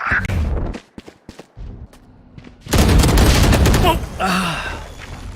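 Rapid gunfire in a Valorant match: sharp isolated shots early on, then a dense, loud burst of sustained fire followed by a shorter volley.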